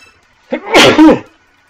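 A single loud sneeze in La Mulana 2 starts with a short inhale and ends in a sharp burst, isolated against near silence.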